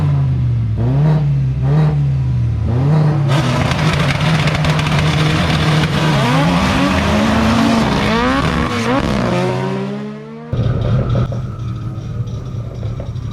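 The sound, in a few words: drag race car launching from the start line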